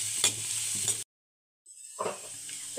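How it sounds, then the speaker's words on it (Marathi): Onion fries in oil in a pan, a soft close sizzle with stirring scrapes that cuts out to silence for about half a second, then resumes. "आता हा कांदा आपल्याला लालसर रंगावरती भाजून घ्यायचा आहे"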